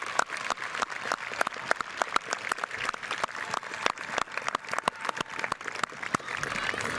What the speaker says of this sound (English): So let's take a second and applaud mom and dad, graduates, please.